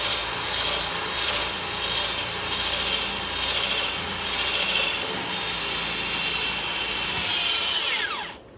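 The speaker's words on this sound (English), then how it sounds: "that I can follow with my sawzall" A sawzall reciprocating saw cuts through the steel wall of a 20-foot shipping container, a loud, close, steady rasping buzz that runs continuously for several seconds before stopping abruptly, with no voices.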